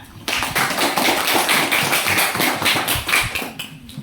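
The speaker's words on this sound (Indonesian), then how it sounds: "Oke, tepuk tangan." Classroom applause breaks out suddenly and continues as steady, fairly loud clapping for about three seconds before fading out.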